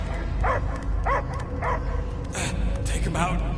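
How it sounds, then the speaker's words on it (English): Dog barking in the video game Guardians of the Galaxy: repeated barks at a steady rhythm, several yips and bow-wows over a constant low game ambience and music bed. "I hear only barking."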